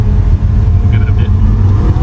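A 2023 Mercedes-Benz GLC 300 Coupe pulls forward in sport mode with manual paddle shifting, its engine a loud, steady low drone heard from inside the cabin, with a voice speaking over it.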